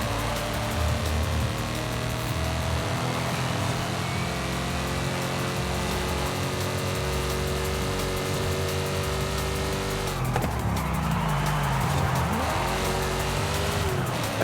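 A convertible with side pipes and quad exhaust roars in a night street racing video game, a sustained droning engine note that drops sharply on a gear change, with tire squeal and no talk.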